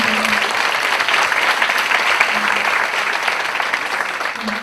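Church congregation at a Korean university-group worship service gives thankful applause to mentors seated at the back, a dense, even roar of clapping held steadily throughout with a faint low hum recurring underneath.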